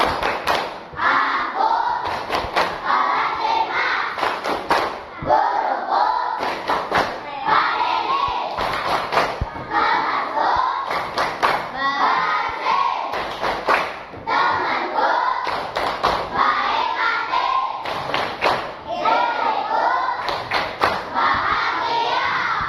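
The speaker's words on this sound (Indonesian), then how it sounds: "Seperti biasa kita tepuk-tepukan dulu biar tambah semangat." Fifth-grade schoolchildren in a classroom perform a class clapping chant, rhythmic group claps in patterned bursts with chanted voices, repeating in cycles with short pauses between phrases.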